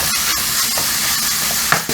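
Chorizo fries in a pan as its fat renders out, giving a loud, dense, continuous sizzle up close with an occasional sharper pop near the end.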